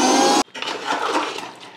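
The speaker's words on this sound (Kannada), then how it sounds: "ನಾನೀಗ ಕೊತ್ತಂಬರಿ ಸೊಪ್ಪು ರುಬ್ಕೊತೀನಿ" A kitchen mixer grinder whirs loudly for a moment grinding coriander leaves, mint and green chili, then cuts off abruptly, followed by softer scraping and rubbing noises.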